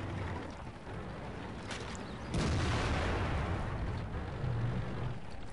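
A British SU-100Y tank destroyer in World of Tanks fires a high-explosive shell, a single loud booming blast with a sharp onset and a lingering rumbling tail, heard alone.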